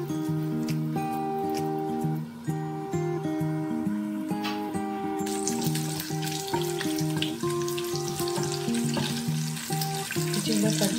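Cumin seeds sizzle in hot oil as a steady hiss beneath prominent background music; the frying grows louder and brighter in the second half.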